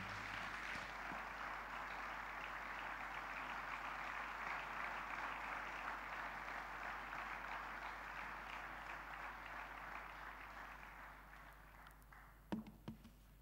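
An audience at a church ceremony applauds in a sustained wash of clapping, fairly distant and steady, fading toward the end before a few sharp knocks.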